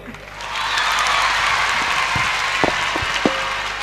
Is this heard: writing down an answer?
no